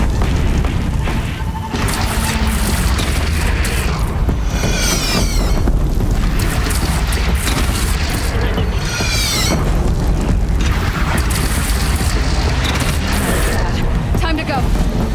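Cannons aboard a ship in a game boom again and again through sustained battle noise, with crashes, mechanical clatter and whistling projectiles, as voices shout across the fight.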